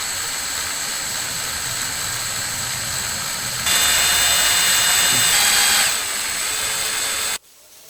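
A power drill bores out a stuck bolt on a bike, a steady high-pitched whine that rises in pitch and loudness midway, then cuts off abruptly near the end, close and without speech.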